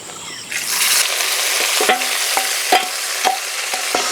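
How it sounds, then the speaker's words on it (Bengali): Leftover chicken marinade spices added to hot oil with dried chillies and whole cumin for chicken khichuri, a loud burst of sizzling followed by steady frying and intermittent spatula scrapes against the pan, no talking. "সব মশলা দিয়ে দেব।"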